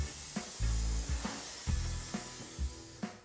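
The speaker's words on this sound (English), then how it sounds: "Then spray the adhesive along the edge of the floor" A soft, continuous hiss of an aerosol can spraying adhesive along a floor edge, with faint low bumps and knocks underneath, fairly quiet and close.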